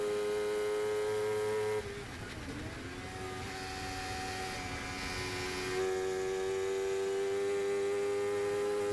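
Engine note of a sports motorcycle-class race car at Snetterton circuit, a sustained loud drone with shifting pitch as the throttle is eased and reapplied, steady throughout with no talk.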